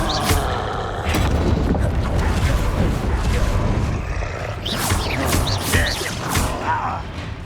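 Bombarda blasting spell in Hogwarts Legacy, a series of booming explosions and crashes amid dense, continuous combat noise, loud and close, with no voices heard.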